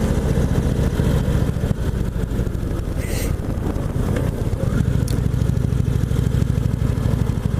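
A 2017 Indian Chieftain Limited motorcycle engine rumbles steadily while riding in Tucson, a low continuous drone with slight shifts in pitch and wind noise over it.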